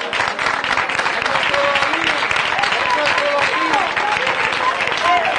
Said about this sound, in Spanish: Fuerte aplauso para Paco.